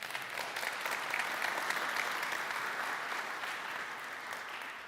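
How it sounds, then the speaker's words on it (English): A tech conference audience applauds steadily, a dense wash of clapping from a sizeable crowd that swells slightly and then holds, with no voices over it. "needs a round of applause"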